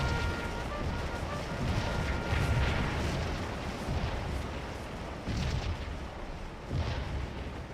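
Cannon artillery fire in a Civil War battle video game, a continuous barrage of deep booms rolling over one another, heavy and sustained for several seconds with a few stronger blasts.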